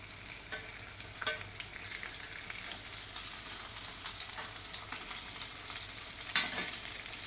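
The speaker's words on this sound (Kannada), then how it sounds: "ಸ್ವಲ್ಪ ಕ್ಯಾಪ್ಸಿಕಮ್ ಬೇಯಲಿ, ಮಸಾಲನೂ ಫ್ರೈ ಆಗುತ್ತೆ." Masala-stuffed capsicum frying in a pan, giving a soft, steady hiss with a few faint clicks and a brief louder tap near the end, quiet and continuous, with no voices.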